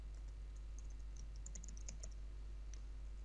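Keys tapped on a computer keyboard while entering code, quiet, irregular clicks in bursts over a steady low hum, with no voices.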